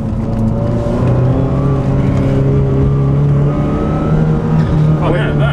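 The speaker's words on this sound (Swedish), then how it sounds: "993 turbo versus Ferrari" Ferrari F355 F1 and Porsche 911 Turbo 993 with a 430 HP engine kit, heard as a loud, steady engine drone from close by with rising harmonic tones, as if cruising or beginning to accelerate.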